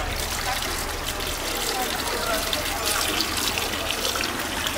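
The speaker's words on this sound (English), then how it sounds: "Rome, they have like these fountains all around and you can drink from them." Water pours steadily from a public drinking fountain on a street in Rome, a continuous close splashing trickle that fills the whole stretch at even loudness.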